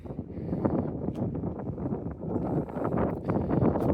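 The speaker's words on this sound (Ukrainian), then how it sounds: "Вітер шумить дуже сильно." Loud, constant rumbling wind buffeting a Pixel 8 Pro phone microphone, a dense low roar with gusty swells throughout.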